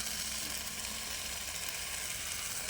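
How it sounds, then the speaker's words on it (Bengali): Ground mustard paste hits a hot pan of softened tomato, giving a dense continuous sizzle that stays loud and close throughout with no voices. "ওই সর্ষেটা দিয়ে নিলাম আমি এবার ভালো করে মিশিয়ে নেবো"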